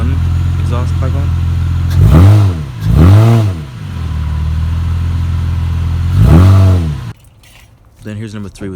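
A car engine with only one exhaust pipe fitted is revved in three quick blips over a rumbling idle, loud and close, before cutting out at the end.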